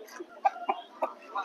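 Hens at a village poultry market give a few short, soft clucks spaced across a second and a half, close by but quiet, over faint background murmur.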